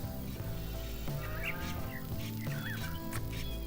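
Ducks quacking and honking in the farming game Farm Manager 2018, several nasal calls repeating over a steady droning background score, with no talk.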